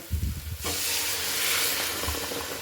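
Hot water poured into a pan of cooking peas bursts into a loud, sustained hiss and sizzle of steam after a brief moment of quieter frying, staying strong to the end.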